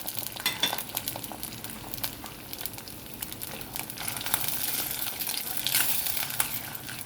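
Shelled field beans hit a pan of browned onions and sizzle steadily, a close crackling fry with scraping stirs and occasional sharper pops building slightly louder toward the end.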